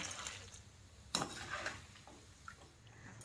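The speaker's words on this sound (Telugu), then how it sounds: "ఇప్పుడు వీటిని ఒక ప్లేట్లో వేసుకోవాలి" Fried poha mixture being scraped and tipped onto a plate, with a sharp metal clink and a few soft scrapes over low kitchen hum, close and fairly quiet.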